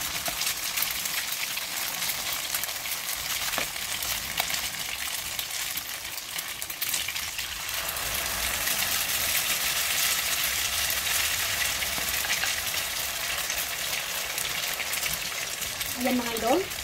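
Eggplant fries in a pan until browned, a steady broad sizzling hiss that runs throughout under intermittent talking, with a light clink near the end.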